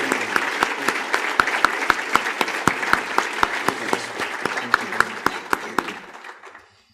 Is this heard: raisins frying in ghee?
no